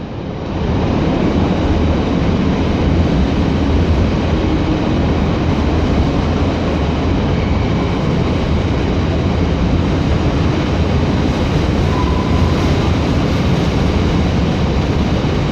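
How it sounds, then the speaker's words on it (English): A steady, unbroken rumble and clatter of a long train rolling past nearby, loud and continuous without pause. "It's just never ending, this train."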